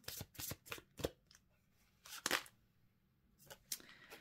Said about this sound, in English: Moving into the Archangel Michael Oracle cards